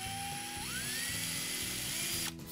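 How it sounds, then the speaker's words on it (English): A drill boring a small hole at the end of a crack in cast aluminum gives a steady high whine that rises in pitch and then cuts off, over a low rhythmic mechanical hum. "I'm going to drill a little hole at the end of it to stop it."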